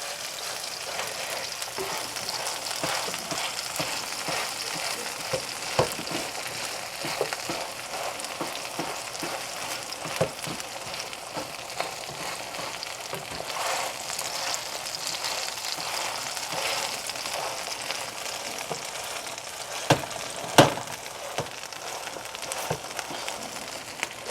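Pumpkin and smoked duck pancake frying in a pan, a long even sizzle with scattered crackles and occasional louder pops as it is turned, close and steady without talk.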